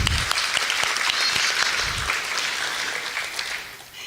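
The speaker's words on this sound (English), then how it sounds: "Please give them a well-deserved round of applause." A round of audience applause at a radiologic technology pinning ceremony, many hands clapping in a dense burst that stays strong for a few seconds before gradually thinning out.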